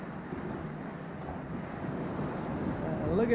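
Ocean waves wash and rumble in a steady broadband roar mixed with wind buffeting the microphone, swelling slightly louder toward the end.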